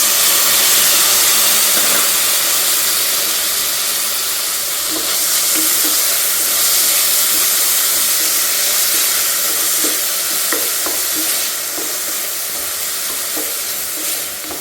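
Tomatoes dropped into a hot pan for beetroot palya fry with a loud continuous hissing sizzle, close and steady, broken by faint scraping stirs now and then, with no talk.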